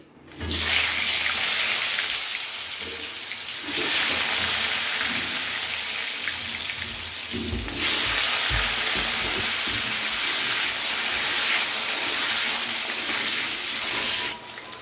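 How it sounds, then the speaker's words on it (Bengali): Round potato slices frying in hot oil for a spicy egg curry, a loud, steady, close sizzle that hisses on without pause and swells slightly at intervals, with no talking. "এরপরে ভেজে নেব গোল গোল করে কেটে রাখা আলু।"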